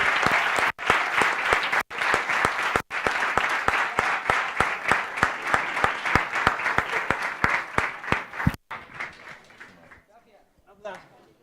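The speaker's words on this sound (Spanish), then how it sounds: "Y ahora os voy a pedir un nuevo aplauso para Claudia, para Javier y para José y para" Sustained applause from a large audience at the opening ceremony of a communications week event, steady dense clapping for about eight seconds with brief dropouts, then fading to a few scattered claps.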